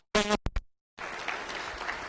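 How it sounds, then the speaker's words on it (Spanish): Applause from a conference audience honouring the Lord, starting after a brief burst of speech and a short silence, then a steady, fairly full wash of clapping that continues to the end. "Denle un aplauso al Señor por eso. Denle un aplauso fuerte."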